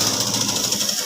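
A sewing machine stitches chudidhar fabric in a steady, unbroken whir that holds at an even level the whole time, close and with no talk over it.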